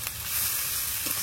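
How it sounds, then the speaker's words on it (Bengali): Ginger and garlic paste, added to fried onions and tomatoes, is stirred in a hot pan with a brief, steady sizzle, close and fairly soft. "আদা রসুন দিয়ে কিছুক্ষণ নেড়ে নেব।"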